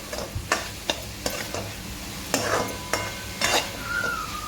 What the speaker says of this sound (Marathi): स्लो गॅसवरती चांगलं असं भाजून घ्यायचं आहे